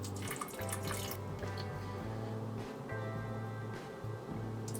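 Water, sugar and lemon juice are poured onto blueberries, giving a quiet trickling and splashing with small drips and soft clinks against the container.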